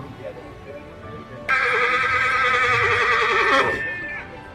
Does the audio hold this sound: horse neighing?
yes